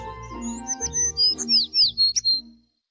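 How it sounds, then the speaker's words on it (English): A sparrow chirps close by in a quick run of bright, high tweets and short trills that end abruptly, followed by silence. "It's a sparrow chirping nearby."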